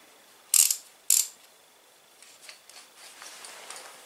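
Ratchet wrench slipping twice in quick succession while loosening a tight engine bolt on a Volvo V70 2.5T, two sharp clicking bursts up close, followed by fainter scattered ticks and rattles.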